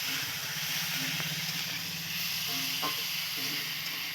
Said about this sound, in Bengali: কড়াইতে তেল দিয়ে আলুগুলো দিয়ে ভেজে নেবো